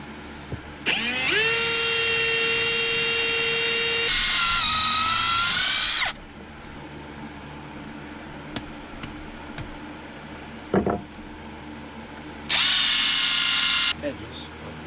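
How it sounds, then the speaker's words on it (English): A power drill whines loudly for several seconds boring into wood, stops, then runs again briefly, with quiet shuffling and a soft knock between bursts. "So much easier, even in wood, to drill after you punch the center."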